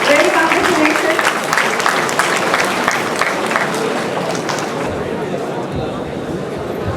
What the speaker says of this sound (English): A huge round of applause for all the winners and all the participating teams.